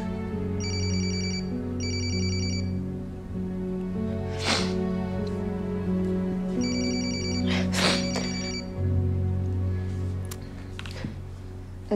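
A telephone rings with a melodic ringtone, repeating electronic trilled bursts over background music with no talk, in an indoor domestic scene from a melodrama.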